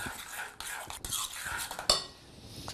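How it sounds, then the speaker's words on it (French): Lumpfish roe stuffing for lemons being mixed in a bowl, with quiet scraping and clinking of a spoon in soft irregular strokes close by and one sharper clink, alone without talk. "Et vous mélangez."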